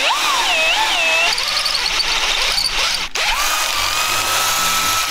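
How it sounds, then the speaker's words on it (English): A power tool, likely a drill or grinder, works on a brand new freshly painted trailer, whining loudly with wavering, squealing pitch and a brief dip partway through, continuous and close. "grinding on a brand new painted trailer"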